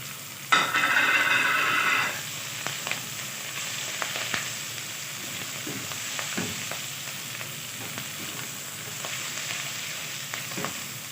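Cardamom, bay leaves and cinnamon hit hot fat in a chicken broth sauté, opening with a loud burst of sizzle that settles into a quieter crackle with scattered stirring clicks and scrapes, nearby and without talk.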